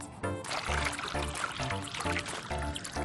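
Ordinary water pours onto a tea bag in a continuous splashing, gurgling stream that is close and fairly loud throughout, with no talking.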